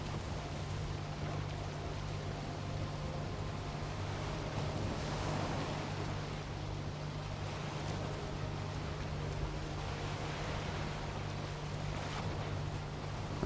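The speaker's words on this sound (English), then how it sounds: "Ocean seems to be a bit restless today as well." Restless ocean waves in Valheim, a steady broad wash of surf and wind rolling on without pause, with a low droning hum beneath and no voices.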